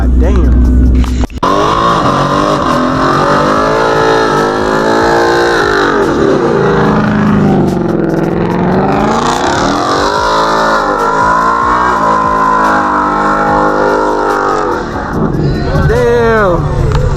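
A truck revs hard while drifting sideways and doing donuts at a car meet takeover, its engine rising and falling in long sweeps under constant nearby crowd chatter and shouting.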